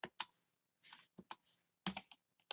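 Computer keyboard typed in short bursts of quiet, crisp key clicks while entering JavaScript code in the Aptana 3 web editor, with clusters separated by brief pauses.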